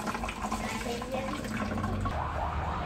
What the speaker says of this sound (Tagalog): Ito ang pupunuin natin na water.